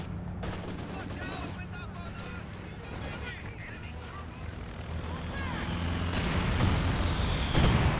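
Infantry rifle volley in the strategy game Company of Heroes: a crackle of scattered shots and bursts under steady battlefield rumble, while a commentator talks throughout.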